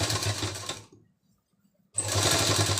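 Sewing machine stitching a zip into the back neck of a kameez with a single foot: a steady running whir, a pause of about a second of silence, then stitching resumes.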